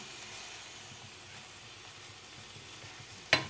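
Rice hits a hot pan already holding sautéed corn and chicken, giving a steady close sizzle and hiss throughout, with a sharp clink of a utensil near the end.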